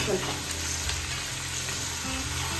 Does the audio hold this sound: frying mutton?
yes